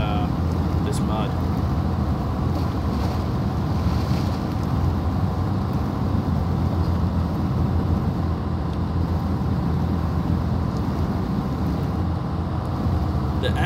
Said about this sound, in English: The engine sounds are incredible on this.